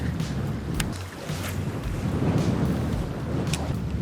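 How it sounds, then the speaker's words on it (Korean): Strong April wind gusting across the shore of Daecheong Lake, a loud, steady low roar buffeting the microphone throughout, with faint higher rustles and no talk. "야 바람 너무 센데 날씨가 어째 이러냐"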